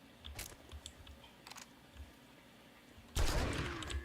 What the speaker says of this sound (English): Let's actually shoot him with the shotgun here.